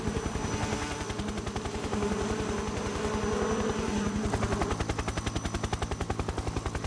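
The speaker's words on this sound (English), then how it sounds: "how did that chopper sneak up on us before we'd even..." A military helicopter in Metal Gear Solid 3 pounds out a rapid, regular rotor chop, loud and continuous throughout, with a gunfire-like rhythmic thudding and no speech.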